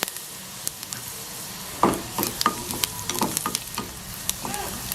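Cumin seeds frying in a pan for a sambal, a close, steady crackling sizzle with scattered sharp pops and a few scraping stirs.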